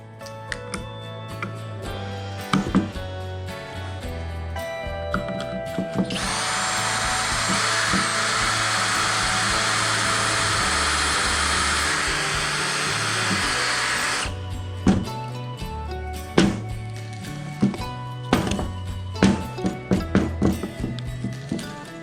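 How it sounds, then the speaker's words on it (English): A power drill whirs steadily for several seconds, drilling pocket holes with a pocket hole jig in wood framework, bracketed by clicks, taps and shuffling workshop handling noise before and after. "I'm going to use this pocket hole jig to drill some holes sideways"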